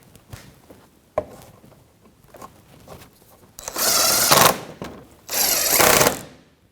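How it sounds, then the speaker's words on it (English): A power tool with a 10mm socket tightening engine splash shield bolts on a 2014-2019 Toyota Corolla 1.8L, first some faint clicks and handling noise, then two loud rattling bursts of about a second each. "10mm socket, and I'm going to snug these up."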